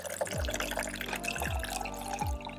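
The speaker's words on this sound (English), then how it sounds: "Then I'm going to add some water to this just to mix it up." Water being poured into a container and mixed, diluting a smelly garden solution outdoors for pepper and eggplant plants; steady close liquid sloshing and dripping throughout, with a few low splashing surges, no talk.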